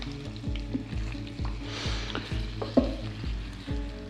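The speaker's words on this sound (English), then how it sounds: "I'm just cooking for a moment in the pan, just so the tuna gets kind of half cooked" Tuna pieces cooking briefly in a pan, left rosy and pink inside, with a steady close sizzle and repeated stirring knocks and scrapes at a regular rhythm, no voice present.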